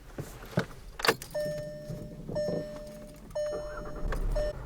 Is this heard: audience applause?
no